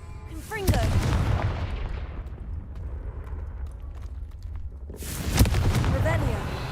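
In the Hogwarts Legacy video game, a Confringo fire spell blasts with a loud booming explosion, then a second heavy burst follows a few seconds later, with low rumbling in between.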